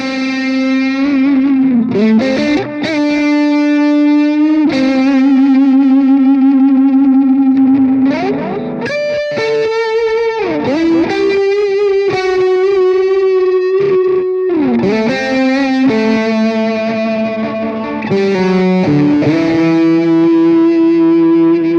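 An electric guitar played through a budget NUX pedalboard with Rectifier-style high-gain distortion rings out in loud, saturated sustained notes and bends, with short pauses between phrases and a chorus-like shimmer, with no voices over it.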